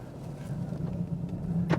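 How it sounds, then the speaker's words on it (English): A 2016 Chevrolet Camaro SS with a manual gearbox drives along, its engine a steady low drone with a slight swell near the end, no voices. "All right, so let's go for a spin around the Camaro."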